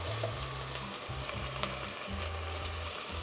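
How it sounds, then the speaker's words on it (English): Onions sizzle steadily in a little oil in a pan, a dense continuous frying hiss with occasional soft stirring sounds, close and fairly loud with no talking. "Let's throw them in a little bit of oil."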